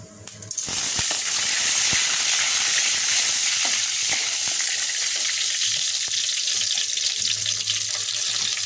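Whole cumin seeds and a bay leaf frying in hot oil, giving a loud, steady crackling sizzle that starts abruptly and continues with scattered pops, close up.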